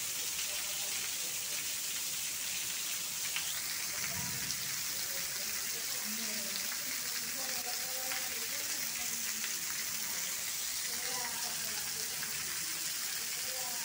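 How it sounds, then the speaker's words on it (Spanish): Steady rain falls in Holguín, Cuba, outside a university building, making a constant even hiss, while voices talk quietly over it. "Pues entonces 30 de abril está lloviendo"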